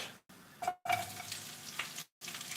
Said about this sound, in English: You know when your pan's nice or not, because you hear that sizzle.